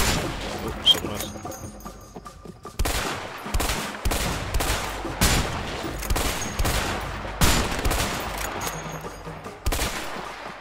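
Gunfire in the video game A Way Out during a mansion shootout, repeated sharp shots and bursts in uneven clusters with brief pauses, a voice talking over parts of it.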